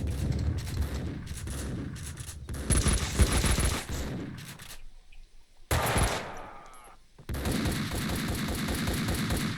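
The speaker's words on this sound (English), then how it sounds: "Max, what are you shooting at, bud?" Rapid bursts of automatic gunfire in the video game Max Payne 2, loud and close. The salvos break off briefly for a quieter stretch, then resume with dense, continuous shooting.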